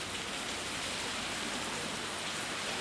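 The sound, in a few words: heavy pouring rain in Trieste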